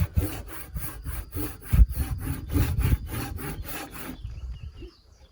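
A hand saw cuts a wooden tenon in a quick, steady run of close back-and-forth strokes, loud and rasping, then stops and leaves near silence at the end.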